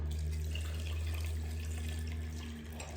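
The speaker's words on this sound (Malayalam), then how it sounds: "ഇനി നമ്മൾ ഒന്നാം പാൽ ഒഴിച്ചു കൊടുക്കാം" Thick coconut milk pours into a pan in a soft, steady liquid stream, heard faintly over a constant low kitchen hum.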